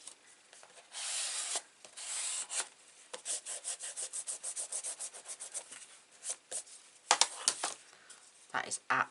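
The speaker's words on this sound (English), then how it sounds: "I'm just going to give it a rub from the back." A stamped paper card being rubbed from the back, making repeated close, scratchy rubbing strokes in bursts, with brief pauses and light handling noises.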